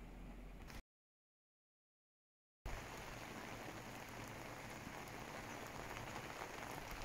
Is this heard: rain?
yes